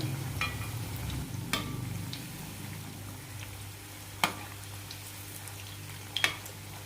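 Potato bonda frying in hot oil over a medium flame, a steady low sizzle with a few sharp pops and occasional utensil taps, close and fairly quiet.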